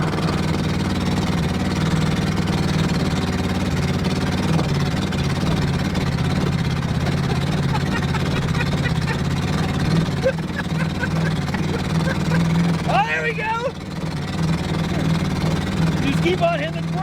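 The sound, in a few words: 1966 V8 Mustang engine running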